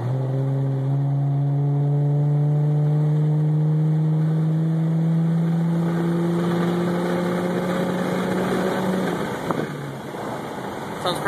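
A 2011 Camaro V6 with a Magnaflow exhaust pulls away from near idle, its exhaust note rising steadily in pitch for about nine seconds before easing off, heard from inside the car and loud.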